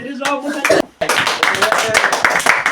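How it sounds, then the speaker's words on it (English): A group of English-speaking students clapping in a classroom, a dense patter of hand claps nearby with talking over it and a short pause partway through. "If yes, clap for yourself"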